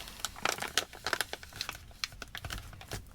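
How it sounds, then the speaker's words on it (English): A plastic ration food bag from a Swedish 24-hour field ration, holding a wet mixed meal, being handled and sealed, giving close crinkling and crackling in irregular bursts with no talking. "All right, we're going to zip that bag up."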